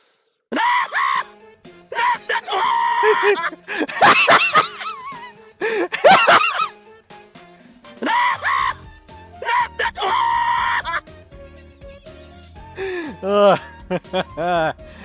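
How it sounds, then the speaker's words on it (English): A man in an anime lets out loud, strained screams and groaning yells in repeated bursts, with brief pauses and a few rising cries between them, close and intense. "He screams his lungs out."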